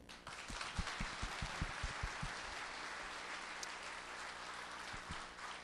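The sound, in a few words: audience applause at book concert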